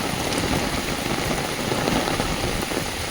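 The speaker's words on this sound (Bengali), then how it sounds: "এত পরিমাণে বৃষ্টি হচ্ছে" Heavy rain pours down outdoors during a storm, a dense, steady roar of drops that stays loud and unbroken throughout, with no voices.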